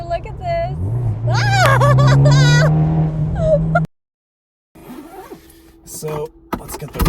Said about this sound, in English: So let's get the roof off here. I think that's the fastest roof that you can get.